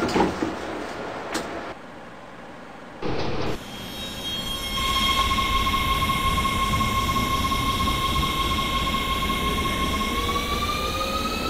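WMATA 1000 Series Rohr metro car on the Red Line toward Silver Spring in the Openbve simulator, rumbling and accelerating with a rising motor whine and thin wheel squeal; loud, continuous and close, with a brief noisy burst early on.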